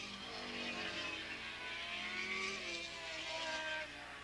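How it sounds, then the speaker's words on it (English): A formula race car passes by at Willow Springs Raceway, its engine note rising and falling as it sweeps past at a distance, clear and alone. "Here goes Poet by to click off another lap with a big lead"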